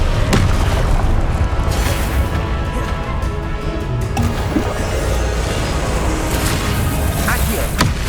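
Confringo spell blasts in Hogwarts Legacy, booming explosive bursts over dense, continuous combat noise, with a sharp impact near the start and more thuds spread through the fight.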